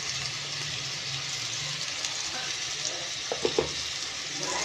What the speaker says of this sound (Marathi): मसाल्याला तेल सुटलेलं आहे ह्याच्यामध्ये टाकणार आहोत मग आपण ह्याच्यामध्ये टाकणार आहोत लाल तिखट